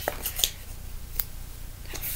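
Scissors cutting craft foam for a felted mask, a few quiet snips and crunchy cuts scattered irregularly over soft background noise, close and faint.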